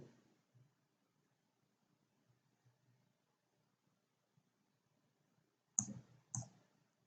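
Two quick computer mouse clicks close to the mic near the end, sharp and distinct after a long near-silent stretch with faint small handling sounds.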